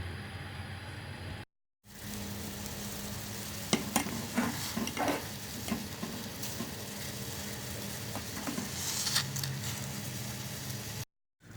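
Continuous bubbling and sizzling from a pot of Maggi instant noodles boiling in water on the stove, with occasional stirring clinks, steady and close, no voices.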